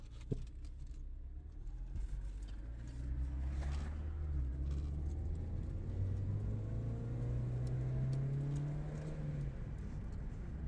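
A Mini Cooper S with a turbocharger drives along, its engine droning steadily up close with a rising whir as it accelerates and shifts, the rumble continuous and fairly loud with no talking.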